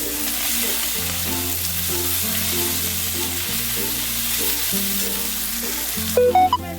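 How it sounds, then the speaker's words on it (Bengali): Spring onion stalks and a chopped medium tomato fry in a pan for a bhola fish curry, a continuous loud sizzle beneath a steady background tune, ending in a few clattering knocks. "দেখো পেঁয়াজ কুড়িটা আমি দু তিন মিনিটের মতো নাড়তে নাড়তে এবার আমি দিয়ে দিচ্ছি একটা মিডিয়াম সাইজের টমেটো কুচি"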